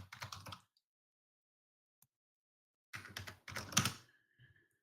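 Quick bursts of typing on a computer keyboard sound close and clear: one short run of keystrokes, near silence with a single tap, then two more bursts of clicks.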